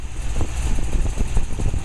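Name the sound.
1969 Corvette V8 engine idling, new Profiler heads and intake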